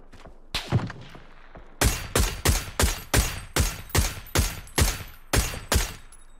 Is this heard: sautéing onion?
no